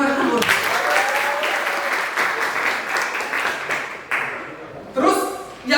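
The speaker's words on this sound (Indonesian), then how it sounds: "tepuk tangan untuk Rehan" Classroom applause from students for a classmate at a school, loud and dense clapping from many hands that fades after about four seconds, then a brief renewed burst.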